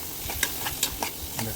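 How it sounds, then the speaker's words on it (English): Tomato masala with salt tossed in a pan for masala brinjal, giving a steady close sizzle with several sharp scraping and clinking stir strokes spaced through the moment, no voices. "Now we will just toss it around"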